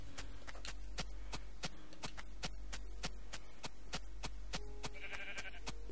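Minecraft sheep sit alongside a fast, evenly spaced train of sharp clicks repeating throughout, over a constant low hum, with no speech.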